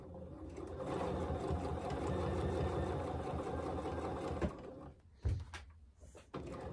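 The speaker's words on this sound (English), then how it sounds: "lining it up with my previous stitch line and going ahead and stitching again" A sewing machine stitches a quilt guided by a ruler, running in a steady close whir for about four seconds, then slowing into short bursts and clicks as the ruler is repositioned, no talking.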